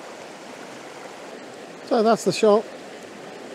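A small river cascade rushes in a steady, broadband hiss, close and constant, while someone speaks briefly over it.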